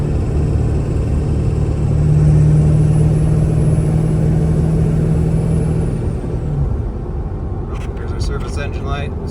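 A truck engine cruising near 55 miles an hour with a possible transmission fault, a loud steady drone that shifts in pitch midway as it downshifts, with faint voices in the cab.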